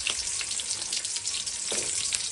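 Onion and garlic frying in hot oil in a pan for a spicy tomato chutney, a loud, dense, continuous crackling sizzle close up with no voices.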